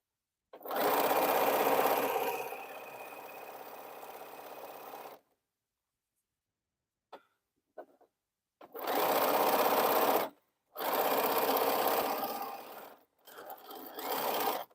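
Sewing machine back stitching a T-shirt quilt: a loud sustained run, a quiet gap with small clicks, then several more stitching bursts with brief stops between them.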